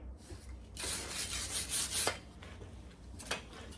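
A brush scrubs across the metal of a body dolly built for a 1972 VW Super Beetle, making a steady, gritty rasping that stops and starts, fairly quiet and close.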